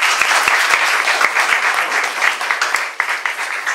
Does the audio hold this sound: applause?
yes